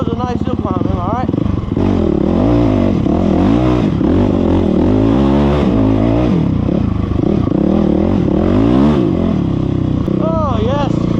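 A motorcycle engine loud and close while climbing a hill on a dirt path, revs rising and falling continuously with strong mid-range growl and brief throttle surges throughout.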